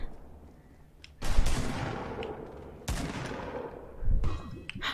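Grenade explosions in a video game, two loud booming blasts with decaying rumble, followed by a third burst near the end.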